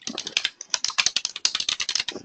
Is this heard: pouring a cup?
no